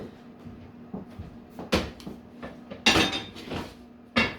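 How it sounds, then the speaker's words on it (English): A hot cast-iron Dutch oven holding rustic French bread is shifted around a kitchen, giving several sharp metallic clanks and knocks at irregular intervals, close and fairly loud against a quiet background. "I'm just going to move the pot. It's very hot."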